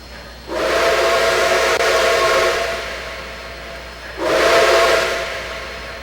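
Steam locomotive whistle in the Trainz simulator on a Chessie double-headed steam run, sounding two long, loud, hissing blasts, the first about three and a half seconds and the second shorter after a brief gap.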